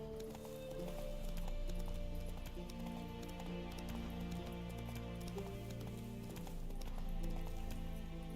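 Roach the horse's hooves clip-clopping in a steady trotting rhythm in the video game The Witcher 3, quiet and set beneath sustained background music, with no talking.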